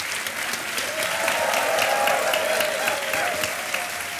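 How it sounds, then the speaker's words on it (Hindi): A studio audience at a televised Hindi quiz show applauds in a sustained, even wash of clapping that swells slightly midway and carries on alone without talk. "और शोर और ताली बजती रहे।"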